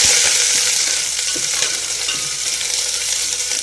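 Mustard seeds crackle in hot oil in a pan, a loud close sizzle with scattered popping that slowly eases, heard alone.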